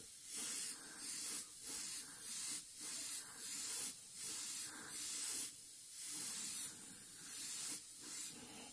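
Pressurized sprayer releases rhythmic bursts of bright hissing spray, roughly one every second, steady and close, with no voices.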